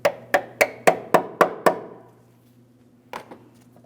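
Seven sharp metallic taps in a quick even rhythm as a brake hose fitting is knocked into position on a 2003-2008 Toyota Matrix, then a pause and two lighter taps, close and clear over a faint hum.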